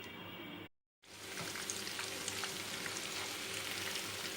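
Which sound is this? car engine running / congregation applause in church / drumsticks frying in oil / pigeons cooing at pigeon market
drumsticks frying in oil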